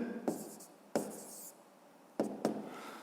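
Chalk or marker strokes on a board during a fifth-grade math lesson come as a few short, sharp scratches and taps, quiet and close, separated by silent pauses with no talking.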